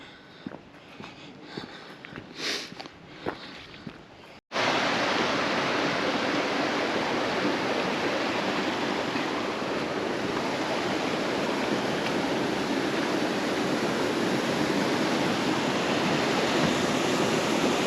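River in Wasdale in the Lake District, heard first as soft background and then, after an abrupt cut, as a loud, steady, close rush of flowing water that lasts throughout.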